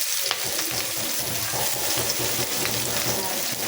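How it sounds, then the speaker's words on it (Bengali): Chopped onion hits a hot frying pan with fish roe in a Bangladeshi kitchen, giving a close, steady sizzle and crackle with faint stirring scrapes throughout. "দিয়ে দিচ্ছি পেঁয়াজ কুচি।"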